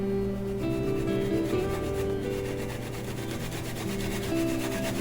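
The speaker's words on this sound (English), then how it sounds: "Grate the apple and garlic and ginger." Apple, garlic and ginger being grated for kimchi, a steady loud rasping rub running without pause, close up and with no talk over it.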